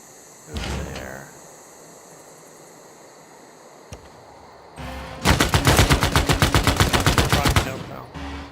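An artillery corps firing in the strategy game Civilization VI: a single booming shot, then a rapid, loud volley of repeated blasts lasting a few seconds, with no talking.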